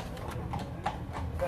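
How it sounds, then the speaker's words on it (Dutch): Horse hooves of mounted police clip-clopping on pavement, a series of distinct hard knocks in an uneven walking rhythm, moderately close, heard alongside background voices and street ambience. "Oh, politie te paard."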